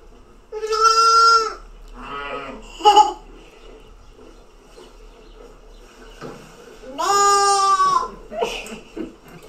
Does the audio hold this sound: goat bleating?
yes